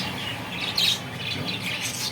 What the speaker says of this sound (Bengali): এই যে ঘুঘু পাখি আছে